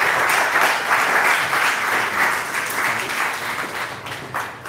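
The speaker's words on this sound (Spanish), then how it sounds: "Un aplauso, por favor, al Padre." Sustained audience applause for a priest at a gathering, a broad steady wash of many hands clapping with slight swells, fairly loud and with no talk over it.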